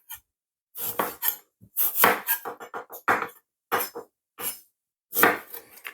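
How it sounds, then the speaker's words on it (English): A knife scrapes the skin off fresh ginger in short, rough bursts separated by brief pauses, close and fairly loud, with no talking. "I'm going to take the skin off the ginger"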